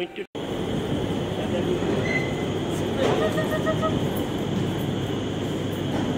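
Loud, continuous rumble of a new, nearly empty Agra metro train running, with a brief tonal whine partway through and a constant low drone throughout.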